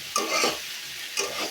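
Bitter gourd fry with potato sizzles in a pan as it is flipped and stirred, two quick scraping stirs with hissing frying underneath.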